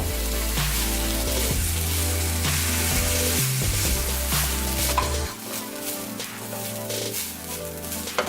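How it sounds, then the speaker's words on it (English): Stir-fry sizzling steadily in a pan for a hibachi-style dinner with peas and green onions as soy sauce is added, a loud continuous frying hiss with a few stirring scrapes and clinks, no voices. "let's add some soy sauce, a little bit at a time."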